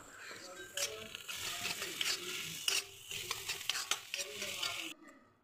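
Boiled potatoes stirred in hot oil with mustard seeds and turmeric, a spoon scraping the pan in repeated strokes over a soft sizzle, close by, ending in a brief quiet.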